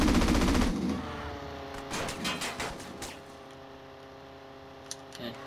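Enemy gunfire in GTA San Andreas, a loud burst of rapid shots at the start followed by scattered sharp cracks and clicks over game background sound.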